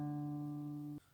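A sustained guitar chord rings steadily for about a second with a dull, somewhat muted tone, then is cut off abruptly, played alone.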